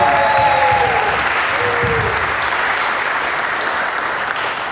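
A large crowd at a car giveaway event gives a sustained, dense round of applause, loud and steady throughout with a few whistles and cheers near the start.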